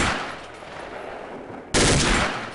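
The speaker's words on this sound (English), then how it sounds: "As with your M4, the OICW has single-shot, burst-fire, and full auto firing modes." OICW rifle firing in Soldier of Fortune 2, which has single-shot, burst and full-auto modes: a loud burst of rapid gunfire cuts in sharply after a quieter hissing stretch and stays dense to the end.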